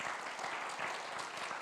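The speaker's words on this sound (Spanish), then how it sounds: "Así que dale otro fuerte aplauso al Señor." A church congregation applauds for the Lord, a continuous wash of many hands clapping from start to finish.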